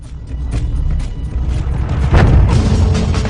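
Massive lateral blast of the Mount St. Helens stratovolcano eruption of 18 May 1980, a loud sustained roaring boom with deep rumbling, swelling into a stronger surge partway through and continuing without pause.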